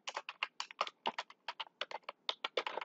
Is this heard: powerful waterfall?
no